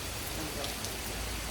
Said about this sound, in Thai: ขนาดฝนตกอยู่ตอนนี้ฟ้ายังแดดเห็นบ่